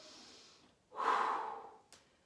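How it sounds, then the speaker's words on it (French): One deep breath at the end of a Pilates exercise: a soft inhale, then a long, loud, airy exhale close to the microphone, closed by a short puff. "Dernière respiration."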